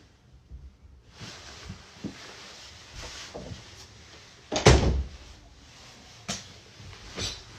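Indoors during a London trip, a door is handled with several knocks and thuds, one louder bump near the middle and a few lighter knocks afterward, close by.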